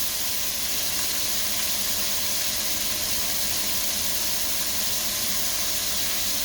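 Shallot cooking in a hot pan as part of a braised chicken sausage dinner, giving a steady, even hiss of sizzling that holds without a break, fairly close and uniform throughout, no talking.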